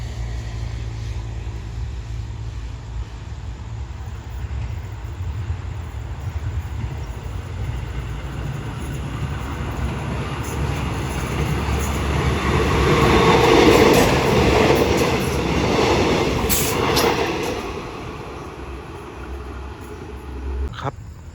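A train approaching a rural Thai station on the southern line, a loud continuous rumble of wheels and engine that builds toward the middle and stays strong, with faint clicks, close and unaccompanied by talk.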